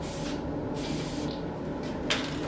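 Mohawk toner sprays from an aerosol can nozzle in one steady, close hiss that runs the whole time, used while finishing wood.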